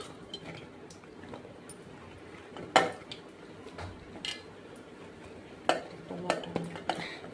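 Chopped ridge gourd pieces go into a pot of washed toor dal, heard as a few scattered clinks and soft thuds against the vessel, with one sharper knock and several small clatters near the end.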